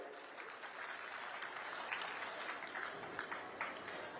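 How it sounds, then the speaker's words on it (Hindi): Crowd applause at a political rally in Chhattisgarh, a steady wash of many hands clapping throughout, moderately loud and continuous with no talk over it. "और एक बार आप मन ताली बजाओ भाई।"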